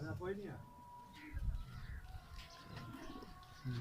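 A green-necked female pigeon coos softly on a rooftop among kept birds. The low murmuring calls are mostly buried under nearby conversation.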